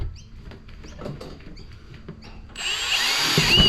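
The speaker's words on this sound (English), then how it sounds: "So now we need to drill the hole." Power drill boring a hole during custom work on a BJ73 Land Cruiser restoration, starting abruptly after a few quiet clicks and handling sounds and whining steadily and loudly up close until the end.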